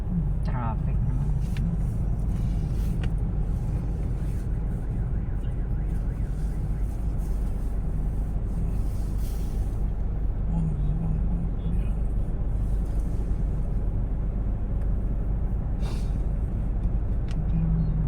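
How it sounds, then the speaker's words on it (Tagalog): Steady car traffic rumbles along a city boulevard near a traffic light, a continuous low drone of engines and tyres heard from close by, with occasional voices over it. "Traffic, oh."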